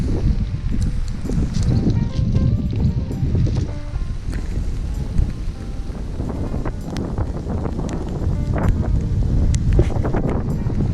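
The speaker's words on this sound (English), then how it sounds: "not only is it raining, but it's very windy" Strong wind roars and buffets the microphone continuously, with a dense patter of rain mixed into the rushing noise, outdoors in Sitka, Alaska.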